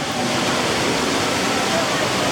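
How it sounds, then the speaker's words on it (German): Jewel Rain Vortex, the 40-metre indoor waterfall inside Singapore's Changi Airport, pours in a steady, dense roar of falling water that stays loud and even from start to finish, with no talking over it. "da 40 Meter hohe Wasserfall runter direkt in einem Gebäude in einem Flughafen"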